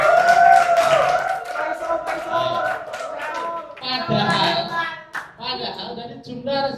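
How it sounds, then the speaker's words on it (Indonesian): An audience claps during an Islamic school research thesis defense at Al-Maarij Putra; a voice talks first, then two short bursts of scattered applause follow. "Kasih aplaus."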